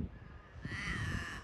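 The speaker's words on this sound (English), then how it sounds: "That crow's been tormenting us since we got here." A crow caws from nearby trees at a coastal campsite on the Freycinet Peninsula, one drawn-out harsh call rising over a quiet outdoor background, fairly faint, with no talking.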